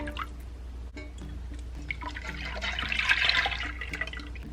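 Heavy cream, milk and a splash of vanilla poured into a bowl for homemade cookie dough ice cream, a steady liquid splashing and trickling that swells louder toward the end, close up with no talk.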